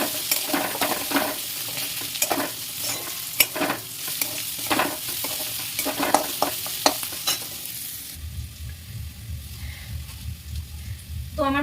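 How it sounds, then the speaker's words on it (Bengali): Egg pasta noodles frying together in a pan give a dense close sizzle with rhythmic stirring scrapes, then the frying drops away into a quieter low hum near the end. "দেখতেই পাচ্ছ আমি সবগুলো একসাথে ভেজে নিচ্ছি।"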